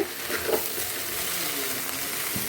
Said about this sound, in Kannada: ಬೆಂಡೆಕಾಯಿ ಫ್ರೈ ಆಗ್ತಾ ಇದೆ ನೋಡಿ